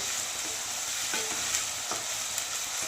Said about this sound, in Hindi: इसलिए मैं इस तरीके से लहसुन को सेकती हूँ